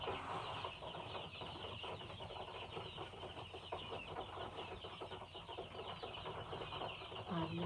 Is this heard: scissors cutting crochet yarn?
no